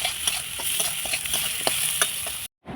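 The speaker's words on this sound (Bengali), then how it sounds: "এবার কেটে রাখা আলু পেঁয়াজের উপরে দিয়ে ভালোভাবে ভেজে নিচ্ছি।" Potatoes and onions frying in a pan, a steady close sizzle with light stirring scrapes and small clicks, ending in a brief cut to silence.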